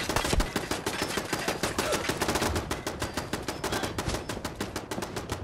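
Rapid automatic gunfire aimed at a turret in Fallout 4, a dense, loud burst of rattling shots in quick succession that runs almost without pause.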